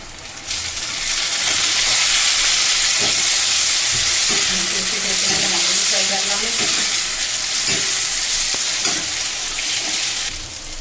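Tomatoes tipped onto fried onions in a pan for malai kofta, bursting into a loud, steady sizzle and hiss with a few stirring clatters, close up and without talk.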